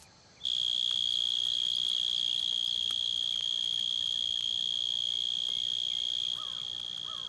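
Male mole crickets sing from their burrow entrances, a loud, steady, high-pitched continuous trill that holds unbroken for several seconds and drops slightly in level near the end.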